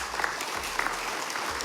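At an orientation event for members-elect, a seated audience claps for sponsors, an even wash of applause from many hands at moderate distance with a few sharper claps.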